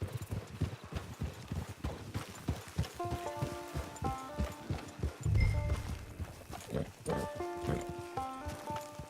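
Horse hooves clip-clopping in Red Dead Redemption Online, a steady trotting rhythm up close with game music and an occasional snort, while voices talk over it.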